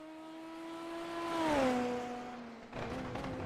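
A Formula Super Series race car leaves the pits at Suzuka, its engine note swelling as it passes closely by with a Doppler drop in pitch, then fading into a steady drone.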